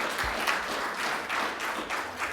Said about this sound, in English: Let's have a round of applause for our final guest, Diamond Jade French of Nashville,